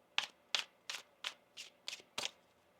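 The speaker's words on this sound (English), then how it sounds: "One more shuffle." Tarot cards being shuffled by hand, seven crisp riffling bursts at a steady rhythm, close and fairly quiet, with no talking.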